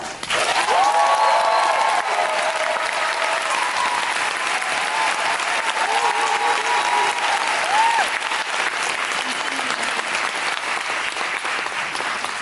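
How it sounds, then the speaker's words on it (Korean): Audience at a curtain call for the musical Matilda celebrating a theatre company's 30th anniversary, loud continuous applause with cheers and whoops rising over it, sustained strongly before easing slightly. "여러분의 한성과 박수로 신시 창립 30주년을 축하해볼까요?"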